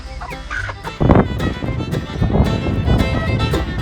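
Chickens cluck in short, rapid bursts close by in a vegetable garden, with scuffling and shuffling noises in the background.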